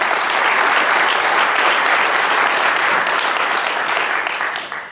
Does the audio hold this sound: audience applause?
yes